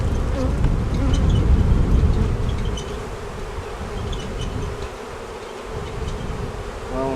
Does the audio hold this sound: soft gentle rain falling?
no